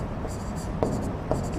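Marker or chalk scratches across a board while a maths formula is written, with short scraping strokes and two sharper taps in a quiet room.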